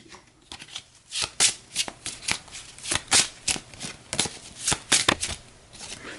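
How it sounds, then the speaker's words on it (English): A deck of game cards for a boxing tabletop game is riffle-shuffled up close, producing a rapid series of crisp, flapping bursts in uneven rhythm, with no talk over them. "So we'll give this a shuffle."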